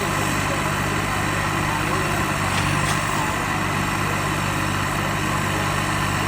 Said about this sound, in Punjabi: ਅਗਲਾ ਮੁਕਾਬਲਾ ਧਰਮਵੀਰ RX 60 ਤੇ ਵਰਲਡ 855 12 ਨੰਬਰ ਇਹ ਟਰੈਕਟਰ ਤਿਆਰ ਰਹਿਣਗੇ